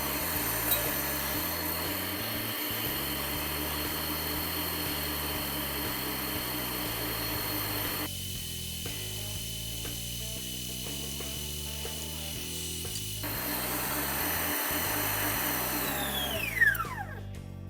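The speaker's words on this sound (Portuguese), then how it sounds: "Nós vamos acrescentar aos pouquinhos, também batendo, deixando a batedeira bater ao mesmo tempo" An electric stand mixer beats peanut cake batter while wheat flour is added, giving off a continuous high motor whir with a rhythmic churning pulse that thins out briefly midway.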